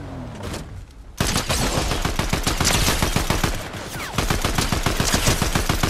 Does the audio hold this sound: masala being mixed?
no